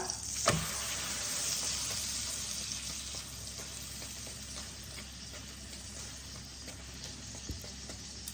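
A potato-stuffed aloo paratha fries in ghee on a pan, giving a continuous broad sizzle with a sharp clatter near the start and another later, heard close and steady with no speech.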